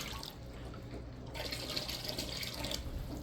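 Water pours into a mushroom substrate bag, starting quiet and rising about halfway through into a steady close rushing splash with no voices.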